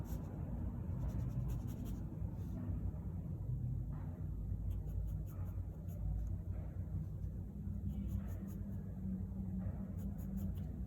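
Steady pencil scratching on paper as realistic hair is drawn for a portrait, a continuous close rasp of short strokes with a low background rumble throughout.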